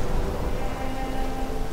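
Steady rain falls in the Morrowind game world, a dense, even hiss that holds at the same level for the whole short stretch.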